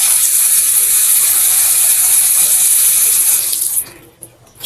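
Water gushing loudly and steadily from a tap during a plumbing check of the hot and cold lines through a water heater, close-up, then cut off near the end with a brief mechanical click.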